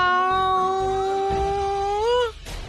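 A person's voice imitates a cat's meow in one long, drawn-out, wavering cry, loud and close, ending abruptly.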